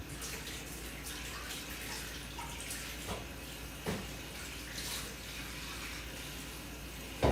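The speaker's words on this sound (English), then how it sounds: "is wash the bowls and wash the plates" Bowls and plates being washed under a steadily running kitchen tap at night, water rushing continuously with occasional clinks and knocks of dishware, close and fairly loud, no talking.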